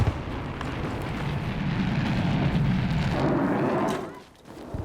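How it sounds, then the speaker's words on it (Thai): A sustained rumbling explosion in the video game Battlefield V roars for several seconds, then cuts off, followed by a short low thud. "ระเบิด"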